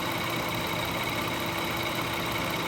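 Close, steady idle of a 2000 Toyota 3.0 VVT engine at 650 RPM, a continuous even hum with light vibration, alone with no talk over it.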